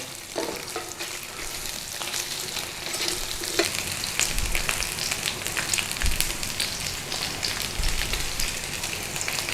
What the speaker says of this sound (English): Now let's flip this bacon again.